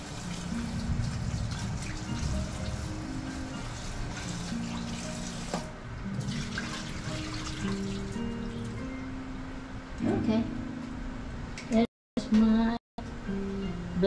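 Water runs from a tap over ferns being blanched, a steady splashing stream with trickling, partly under a talking voice, with brief breaks near the end.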